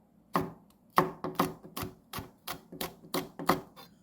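A knife thinly slices Cheongyang chili peppers on a cutting board, about nine crisp, close chops in an uneven but steady rhythm with quiet gaps between them.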